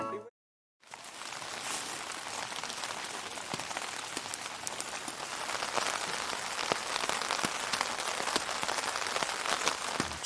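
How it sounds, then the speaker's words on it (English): Steady rain patters on a campsite's surfaces at Land Between the Lakes, Tennessee, in January: a dense, even hiss with scattered sharper drops, heard close and alone after a brief silent gap at the start. "Just as the forecast predicted, the rain has arrived."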